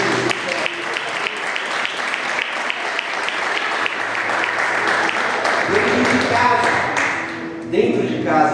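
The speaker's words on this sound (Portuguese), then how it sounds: "Vamos aplaudir ao Senhor." A church congregation applauds loudly and steadily at a Pentecostal worship service, dense clapping filling the room with a few voices rising over it toward the end.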